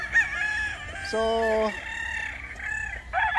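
Gamecock roosters, three to four years old and tethered at a game farm, crow repeatedly, with one long harmonic crow standing out among overlapping calls and clucks while someone talks over them.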